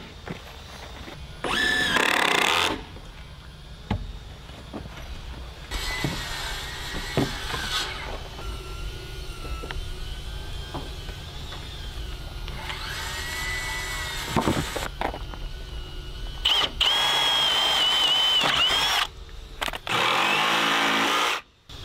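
A power drill drives GRK structural screws into treated lumber outdoors, giving several loud, short whirring bursts that start and stop, with quieter gaps and faint background noise between them.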